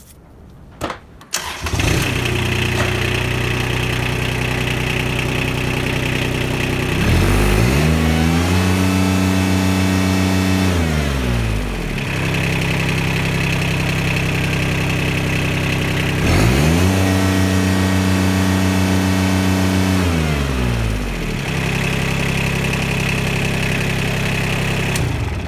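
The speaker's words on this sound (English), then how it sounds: "So I'm just going to start it up, put it into gear, and then we'll see if there's any difference in the pressure or not." The engine of a Kubota RTV 900 utility vehicle with a hydraulic transmission problem cranks, catches and settles into a steady, close idle. It then rises and falls twice in long swells as the vehicle is put in gear.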